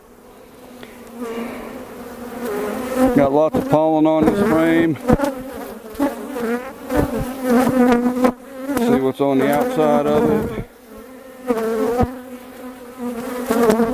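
Honey bees from an opened Demaree-manipulated hive drone in a steady, close, dense buzz during a frame inspection, with someone talking over it intermittently.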